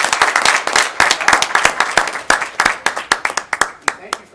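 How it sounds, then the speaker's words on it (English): A crowd at a borough council meeting claps steadily, a dense run of sharp hand claps that thins toward the end as the applause fades out. "So if we can have a round of applause"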